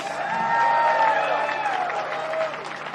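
Crowd applause with scattered cheering at an outdoor Hollywood Walk of Fame star ceremony, a steady wash of clapping across the whole stretch, with a sustained musical or vocal tone riding over it.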